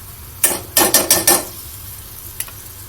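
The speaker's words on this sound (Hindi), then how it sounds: "इसको लगातार चलाएंगे मसाला ऐड करने के बाद" Masala being stirred into a lotus stem and gram flour curry, heard as four or five quick scraping strokes of a spoon against the pot in a short burst, then a single softer scrape after a pause.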